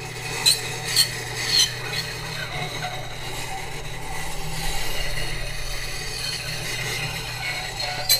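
Bench grinding wheel sharpening a homemade woodturning hollowing tool, the wheel spinning toward the operator; a steady, moderately quiet rasping grind runs throughout, with a few brief sharper scrapes near the start.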